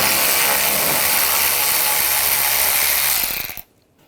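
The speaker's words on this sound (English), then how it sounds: "Using a 7mm socket, take this screw out." Ratchet with a 7mm socket backing a screw out of a 2014-2018 GMC Sierra 1500 during parking sensor replacement, a close continuous clicking whir that stops abruptly near the end.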